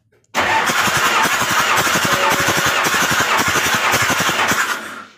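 A 6D14 diesel engine revs hard right after its injection pump is fitted, a loud, steady throbbing roar with rapid firing pulses that holds for about five seconds before easing at the end.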